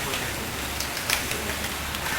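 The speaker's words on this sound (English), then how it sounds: "It is raining quite a bit today." Steady rain falls around a Hindu temple in Bhubaneswar, Odisha, a dense, close hiss of drops spattering on surfaces that continues evenly throughout.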